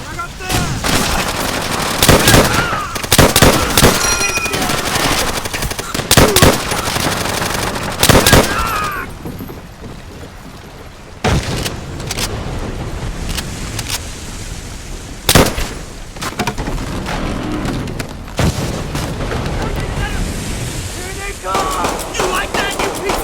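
An enemy machine gun fires in Call of Duty: World at War during a raid on Makin Island. Loud, rapid bursts and single sharp shots repeat throughout, with shouted voices in between.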